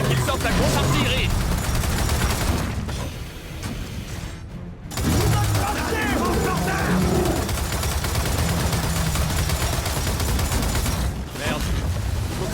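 Heavy gunfire and explosions rage in Gears of War 4, a dense, loud barrage that runs almost without pause, dropping briefly before resuming, with a voice talking over the combat.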